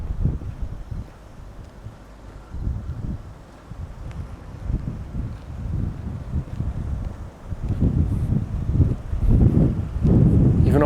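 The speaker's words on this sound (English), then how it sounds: "Even off the beach, it's still pretty windy." Strong wind near a beach at Cape Lookout buffets the microphone in uneven low rumbling gusts, growing louder toward the end.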